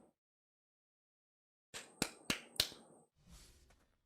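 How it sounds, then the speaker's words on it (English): Three sharp, close hand claps sound in quick succession after silence, each crisp and distinct, picked up by a desk microphone during a gaming stream setup, followed by a softer rustle. "it's picking up my claps"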